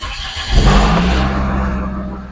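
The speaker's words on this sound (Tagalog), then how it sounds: "Pag pinaandar natin to, kahit na mainit yung makina, nasa 2000 RPM pa rin siya." A 9th-generation Toyota Corolla Altis engine, warm but idling high around 2000 RPM from a dirty idle air control valve, runs with a loud, steady hum close by after an initial surge.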